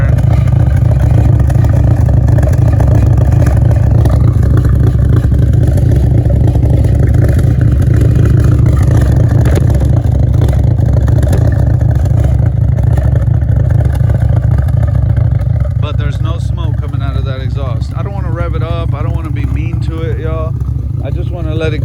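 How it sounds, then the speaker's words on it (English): An Audi A5 engine runs rough with a misfire, a loud continuous idle with uneven chugging and pops, close by. Someone talks over it in the last part. "you could hear it popping because it's misfiring"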